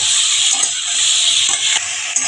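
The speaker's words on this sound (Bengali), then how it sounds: "ইঁচড়টা একইভাবে নুন হলুদ দিয়ে ভেজে নেব" Pieces of jackfruit frying in hot oil with salt and turmeric make a loud, continuous hiss and sizzle that holds steady throughout.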